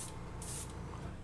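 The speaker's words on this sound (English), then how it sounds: "eu tiro o aerógrafo e faço... Psh, você escuta o spray" Airbrush giving short bursts of spray to clear dried paint clogging its tip, two quick faint hissing puffs close by.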